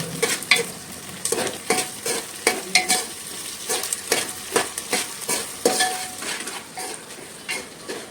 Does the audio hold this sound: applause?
no